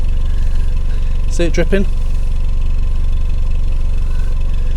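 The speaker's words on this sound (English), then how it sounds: "So I've got the engine running." A Fiat 500 engine idles with a loud, steady low rumble throughout, recorded up close near the exhaust, while someone speaks briefly over it.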